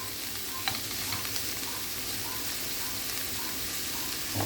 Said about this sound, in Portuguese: envolve bem para que ele possa absorver todo esse azeite e essa manteiga que está aqui na panela.